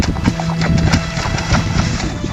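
Horse hooves clip-clop in an audio drama ghost story set on the road to London, a steady, fairly loud trotting rhythm of repeated hoof strikes over a low sustained tone throughout.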